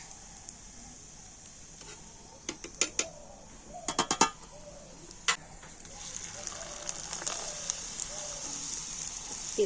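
Rice pitha frying in hot oil, a steady soft sizzle and crackle with a run of sharper pops and spits clustered in the middle, close by and moderate in level.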